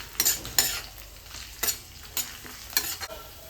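Garlic, curry leaves and green chillies fry in olive oil for corn fried rice, a close crackling sizzle punctuated by several sharp stirring scrapes of a utensil against the pan.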